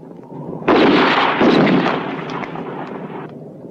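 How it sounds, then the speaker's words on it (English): Gunfire during a spaghetti western shootout, a loud, dense burst of shots and blasts that swells suddenly and then trails off into a rumbling decay. "Better keep firing."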